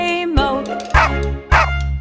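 Cartoon dog barks from a children's farmer-and-dog nursery song, three loud yapping barks spaced across two seconds over steady musical backing.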